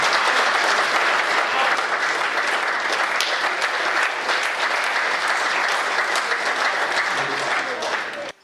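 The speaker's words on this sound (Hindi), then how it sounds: "तालियां कमजोर है साहब" Audience applause at a Hindi poetry recital, a dense wash of clapping from a large crowd that holds steady for several seconds and then cuts off abruptly.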